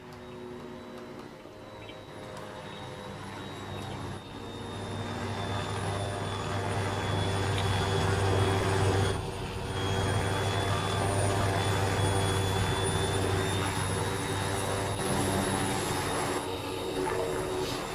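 A helicopter landing on a helipad in a video game roleplay of a GIGN assault: a steady, loud engine and rotor drone that holds throughout with little variation.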